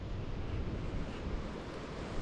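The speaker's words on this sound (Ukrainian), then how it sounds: "Та вітер такий якийсь противний. Холодний." Steady cold wind buffets the microphone with a continuous low rush, no voices, like gusts blowing across open water while fishing.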